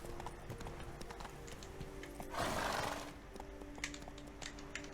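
Hooves clip-clopping from a horse trotting in The Witcher 3 video game, a faint rhythmic beat with a louder swell near the middle of the stretch.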